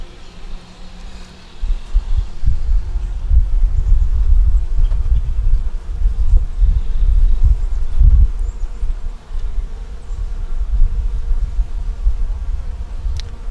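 Honeybees at a hive in South Carolina, festooning along the bottom of the frames, fill the air with a dense, steady buzz that holds close and loud throughout, with no voices.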